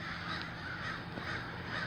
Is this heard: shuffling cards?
no